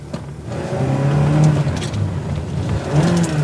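A Ferrari 360 engine revs up and drops back between gear shifts, its note swelling and falling close by as the throttle is blipped, with the gearbox prone to slipping out of gear.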